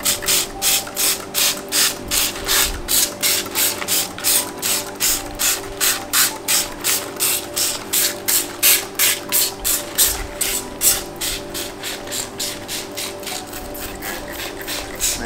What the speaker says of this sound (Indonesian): ini kita semprotkan ya sampai merata